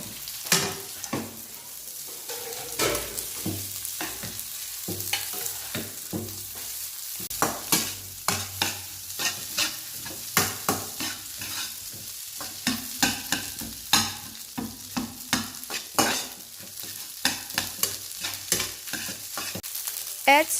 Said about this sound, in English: Put the rice and eggs into the pan. Stir until everything is well mixed.